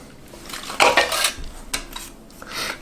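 A spoon clatters and scrapes against a dish while layering magic bars with graham crackers and condensed milk, giving a few sharp metallic clinks and a rattling scrape up close.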